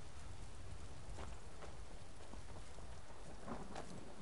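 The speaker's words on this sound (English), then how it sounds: "It's raining. Did you know that?" Steady rain and distant thunder in the video game Skyrim form a continuous, even wash of hissing noise with soft low rumbles underneath, fairly quiet and unbroken throughout.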